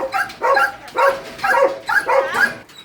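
Several pet dogs, a Great Dane among them, bark and yip in repeated bursts about half a second apart, loud and close, with excited whimpering yelps between barks.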